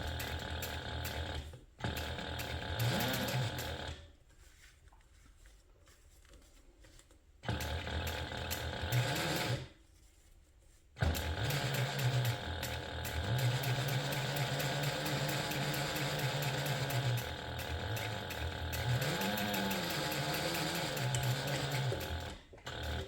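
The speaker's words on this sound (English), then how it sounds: "we're going to top stitch along that seam using a 1/8 inch seam allowance" A sewing machine top stitches a handbag seam in long steady runs of fast mechanical whirring, stopping briefly twice, with no voices.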